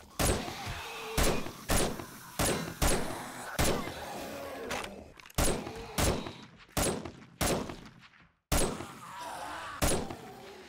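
Zombies pounding on a door in the survival game 7 Days To Die: a series of loud, heavy thuds and bangs in an uneven rhythm, close by, with short gaps between blows.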